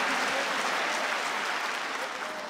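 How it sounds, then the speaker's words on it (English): Dense, steady applause from a church congregation clapping in praise to God, a continuous full crowd of claps throughout. "Just to give applause to the Lord. Applause is not only for politicians or celebrities, but also for the Almighty God."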